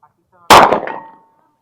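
A single sharp, loud report from a Sig P365 pistol fired close by, cracking hard and then ringing out briefly as it fades, with no talk over it.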